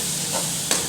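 Garlic fries in a pan while being stirred, a soft steady sizzle with a light scrape of the spoon near the end.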